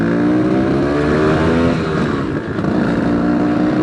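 A 1980 Vespa P200e scooter with a 200cc two-stroke engine runs loud and close, a steady buzzing drone holding at an even pitch with a slight dip midway, no voices over it.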